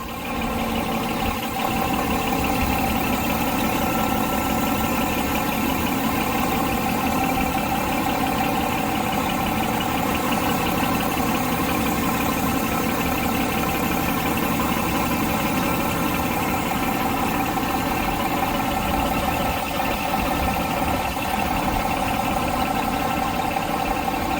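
A Cummins diesel engine idles with a steady, even rumble and faint vibration, constant and close for the whole stretch, with no voices.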